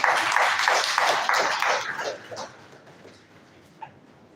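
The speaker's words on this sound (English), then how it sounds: "A round of applause for the former Dean of Engineering, Professor Davo" Applause at an electrical engineering conference for a former dean of engineering, a dense crowd clapping that is loud at first and then fades away over a couple of seconds, leaving a quiet room.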